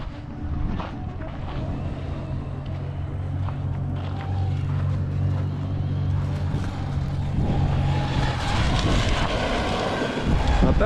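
Traxxas HOSS 4X4 VXL radio-controlled monster truck driving with traction control off: a steady whining electric motor hum under wind rush, growing louder and rougher toward the end as the truck nears.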